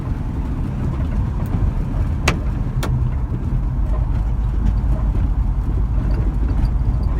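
A Chevrolet C10 pickup truck drives through town on a rainy day, its engine and road noise a steady low rumble heard from inside the cab, with a couple of faint clicks.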